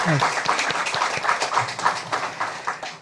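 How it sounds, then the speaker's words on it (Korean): A church congregation applauds the choir during a Sunday thanksgiving worship service with dense, close clapping, and a voice briefly sounds at the start. "우리 성가대 경외의 박수를 하겠습니다"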